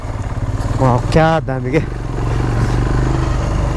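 A motorcycle hums steadily along an off-road mountain route, its engine a constant close drone under a voice that speaks briefly over it.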